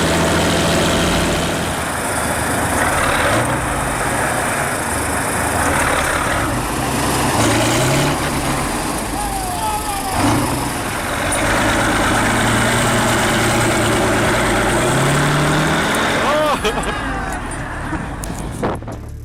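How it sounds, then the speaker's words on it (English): A Kirovets K701 tractor's heavy diesel engine labors and drones steadily on an icy, snowbound road, loud and continuous throughout, with a voice talking over it. "The K701's wheels, though working overtime, couldn't negotiate the icy grip of the road."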